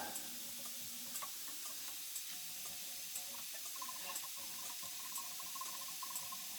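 Liquid trickling and splashing from a homemade bottle-filling rig into several bottles, a faint steady watery hiss with small intermittent drips and clinks, no one speaking.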